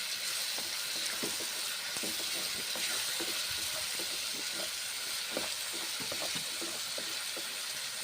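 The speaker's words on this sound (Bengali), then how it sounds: "সামান্য জল দিলাম, মশলা এইভাবে কষে নিচ্ছি।" Spices cooking in a pan with a splash of water for a Bengali Vetki fish dish give off a steady, close sizzling hiss with scattered small pops and crackles. No one speaks over it.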